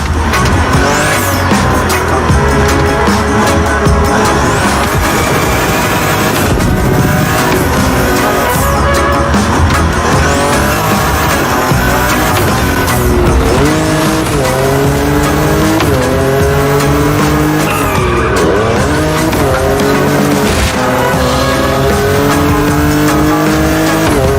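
Race cars in The Crew Motorfest, a racing game, on winding Hawaiian mountain roads roar loudly and continuously, with engines revving and repeated sharp tire squeals and skids as they corner.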